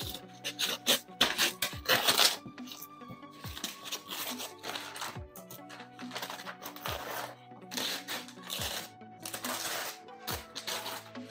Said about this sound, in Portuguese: Eu acho que eu vou na tesoura que é mais rápido e faz menos barulho